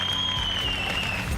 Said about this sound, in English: like the rousing rounds of applause that just happened for medicos in Spain